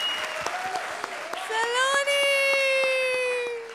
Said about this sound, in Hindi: सबों के लिए एक दफ़ा बहुत सारी तालियां